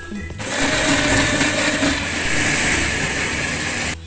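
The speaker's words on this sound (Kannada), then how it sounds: "ಆಮೇಲೆ ಇದನ್ನ ಹುರಿದಿರೋ ಮಸಾಲೆನೆಲ್ಲ ಆ್ಯಡ್ ಮಾಡಿಕೊಂಡು ಒಂದು ಸತಿ ಕ್ಲೀನಾಗಿ ನೈಸಾಗಿ ರುಬ್ಕೊಂಬರ್ಬೇಕು" An electric kitchen mixer grinds coconut with roasted spices into a paste for mutton kheema sambar, starting with a whir and holding a loud, steady motor whine for several seconds before cutting off.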